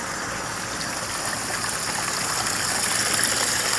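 A small garden fountain pump pushes water up so it trickles back down, a steady close splashing and gurgling wash with no talk.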